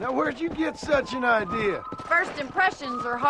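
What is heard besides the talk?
No everyday noise stands out behind the speech.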